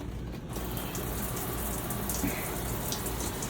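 Water runs steadily from an RV faucet fitted with an aerator, giving a continuous close hiss and splash that holds at an even level.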